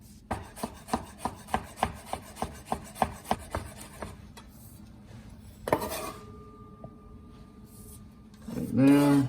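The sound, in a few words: knife chiffonade-cutting fresh mint on a board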